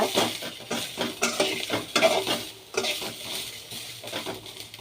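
Masala spices for sprouted-bean sambar are dry-roasted and scraped in a pan, with rhythmic metal scraping and light rattling, close and steady.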